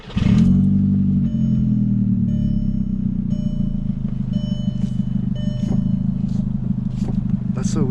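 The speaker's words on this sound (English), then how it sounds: "Can I try turning my car back on" A Volkswagen Jetta engine turns over and settles into a steady, loud low idle right away, with repeated electronic chime beeps sounding over it and a voice talking.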